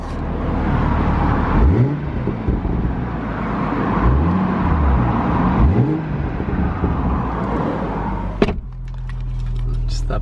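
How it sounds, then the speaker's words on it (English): Toyota A90 Supra in sport mode, its engine droning steadily from inside the cabin as the revs rise and fall in sweeping arcs, followed by a sharp pop at the end as the exhaust backfires into a low burble. "Oh, the backfire is unbelievable."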